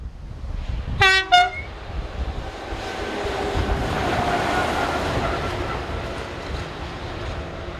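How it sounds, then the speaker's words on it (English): French electric locomotive 36010 running north as a light engine just south of the town on the Mâcon to Chalon-sur-Saône main line: two short loud horn blasts, then a steady rising rumble and rail noise as it approaches. "Here we have 36010 running north light engine, seen just south of the town."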